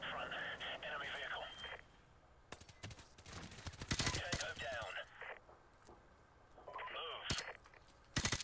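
Bursts of automatic gunfire and scattered shots in Call of Duty: Modern Warfare Remastered, loud at moments and broken by quieter stretches, with game sounds and a voice mixed in.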